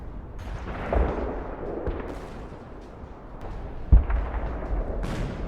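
A tank gun fires in the Arms Trade Tycoon Tanks video game: one sharp, heavy blast stands out near the end, with a softer boom earlier over a low rumbling battle ambience.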